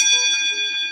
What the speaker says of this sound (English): Can we get a bell?